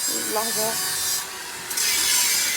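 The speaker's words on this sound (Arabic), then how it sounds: "وفي صوت شنيور جميل كده" An electric drill runs steadily during home installation work, with workers outside beneath a window. It makes a continuous grinding whir that dips briefly midway and then resumes, and a voice speaks briefly over it.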